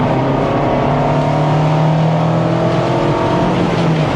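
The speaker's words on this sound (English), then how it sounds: "The exhaust is way too quiet." A steady, fairly loud engine drone from a Mazda MX-5 Miata cruising along, with a low, rather quiet exhaust hum and a smooth, even tone throughout.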